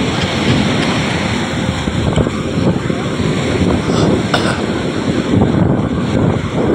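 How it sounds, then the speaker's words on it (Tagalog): Large ocean waves rolling in near a beach cottage, a continuous loud roar of surf mixed with gusting wind buffeting the microphone, with no clear talk. "Ay, lalaki ng alon"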